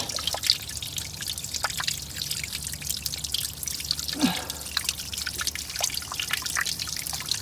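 Water dribbles and drips from leaking pool pipes under back pressure, a continuous faint trickle with scattered drip taps throughout, no talk.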